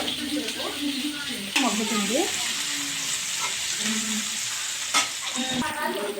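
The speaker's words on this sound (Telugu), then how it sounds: "ఆనియన్ అలానే పచ్చిమిర్చి ఇది మగ్గుతుంది" Chopped onion and green chillies fry in a pan for a hotel-style paneer gravy curry, giving a steady, close hiss and crackle under a voice talking throughout.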